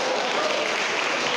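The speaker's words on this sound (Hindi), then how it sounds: "ताली बजा के मैं लेता हूं" A church congregation at a Sunday service claps hands together, a loud, dense burst of many hands held at an even level throughout the brief moment, close and unbroken, without speech over it.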